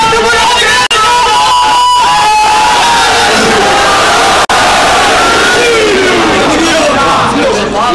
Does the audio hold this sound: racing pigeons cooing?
no